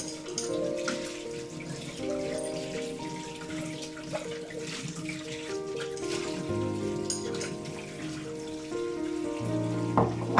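A kitchen tap runs while dishes are rinsed with mixed cold and hot water, a steady nearby stream broken by splashes and clattering dishes, no voices.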